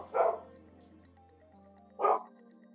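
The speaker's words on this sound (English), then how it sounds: "I got the dogs barking in the back" Dogs bark twice in the background, two short muffled barks about two seconds apart over a faint steady hum.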